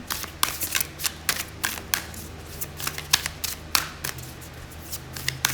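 Tarot cards are shuffled by hand in quick, crisp riffling bursts, a steady run of close papery flicks and slaps with short pauses between, heard alone without talking.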